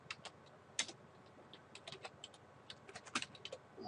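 Keys on a computer keyboard clatter in short irregular bursts, quiet and close, with scattered single taps and brief pauses between them.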